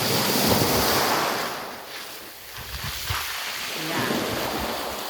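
Surf rolls onto Kolbano beach in Nusa Tenggara Timur, a continuous wash of breaking waves mixed with strong wind buffeting the microphone, swelling and easing over a few seconds.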